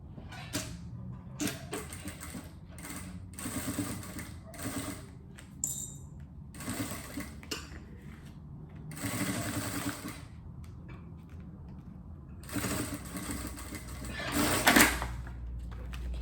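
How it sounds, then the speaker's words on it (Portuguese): A sewing machine stitches a safety seam on a double toiletry bag in several short bursts of running, separated by quiet pauses and small handling clicks, at moderate volume throughout. "E aí fazer a costura de segurança"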